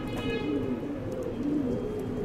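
Diving pigeons coo in a continuous low, throaty warble, close and steady throughout, with no speech over them.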